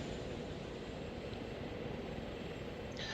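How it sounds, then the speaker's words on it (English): Aircraft rotor and engine drone from helicopters flying in formation in the Arma 3 video game, a steady broadband whir holding at even level throughout with no voices. "all three helicopters are flying to the location"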